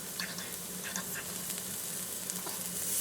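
Onion and green chili frying in a pan with turmeric and chili powder added, a soft continuous sizzle with light stirring scrapes close by, fairly quiet throughout.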